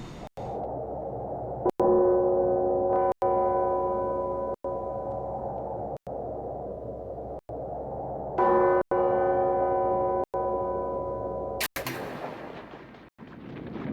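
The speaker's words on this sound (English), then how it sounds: "There's a bell tower in the field near Prokhorovka. Every 20 minutes, the bell tolls to honor the dead." The bell of a bell tower standing in a field near Prokhorovka tolls loudly and repeatedly, each strike ringing out in a long, humming decay before the next.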